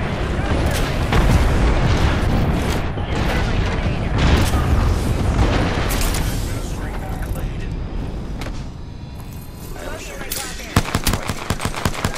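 A frag grenade blast in Apex Legends comes as a loud, heavy rumble within continuous gunfire and booming effects, followed by sharp rapid shots near the end. Voices are heard throughout.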